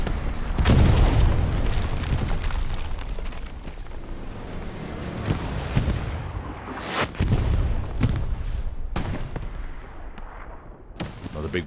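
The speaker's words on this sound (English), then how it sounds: "And the artillery for the Axis locking down that trench." Artillery shells in the World War II shooter Hell Let Loose, heavy booms landing one after another over a trench, several loud close impacts with rumbling decay between them amid distant gunfire.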